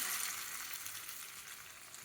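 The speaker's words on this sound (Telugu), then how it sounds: "ఇది పోపు అయిపోయిందండి. పోపు పెట్టేస్తున్నాము." Tempering (popu) for dondakaya pappu, an ivy gourd dal, sizzles and crackles steadily in hot oil, a close, continuous frying hiss with no voices.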